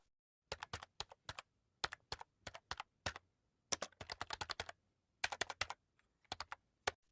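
Bursts of keyboard typing as a short message is entered, crisp close key clicks in quick clusters separated by brief pauses, with no voice.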